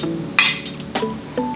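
Drinking glasses clink together in a celebratory toast, a sharp bright chime followed by two softer taps, close and fairly loud against a quiet room.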